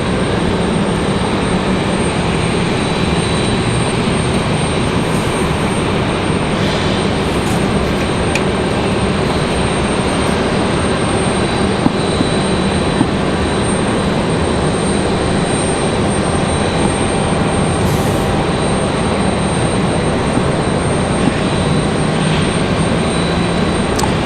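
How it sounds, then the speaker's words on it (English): An American Airlines Airbus A321 jet arrives from Charlotte at Raleigh-Durham International, a loud, steady broadband engine roar holding close and constant throughout with no voices. "American Airlines 2023 coming in from Charlotte. It's going to be an A220, or A220, an A321, excuse me."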